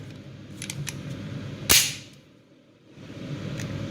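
A single sharp, close click from an empty 9mm micro compact pistol as the trigger breaks, with a few fainter clicks of trigger reset and take-up around it in a quiet room.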